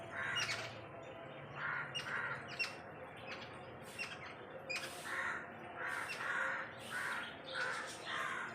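A crow caws repeatedly, about eight harsh squawks in an irregular rhythm, fairly close and clear against a quiet outdoor background with no talking.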